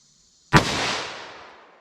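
A single loud, sharp gunshot from a 10mm revolver firing Buffalo Bore low-recoil 155-grain XTP ammunition into ballistic gel, rising abruptly out of near silence and followed by a long decaying echo, with no talking.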